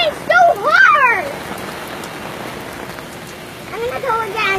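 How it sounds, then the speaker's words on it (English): Heavy rain pours down outdoors, a steady broadband hiss of drops striking surfaces, while a young voice shouts and squeals excitedly over it near the start and again at the end. "It's raining so hard!"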